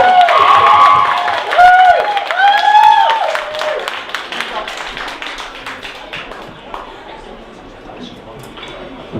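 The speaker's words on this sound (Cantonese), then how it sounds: "多啲掌聲俾 Derek， 因為佢幫我重新編咗呢個好優美嘅開場。" Audience applause for a pianist at a live music performance in a Calgary venue, a dense burst of clapping and cheering that starts loud with singing-like tones over it, then thins and fades across several seconds.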